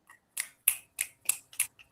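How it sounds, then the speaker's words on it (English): Crisp, close finger snaps at a live show, about six sharp dry clicks in a loose, even rhythm against a quiet background with no talking. "Finger snaps."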